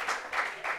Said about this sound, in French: applaudissements pour lui.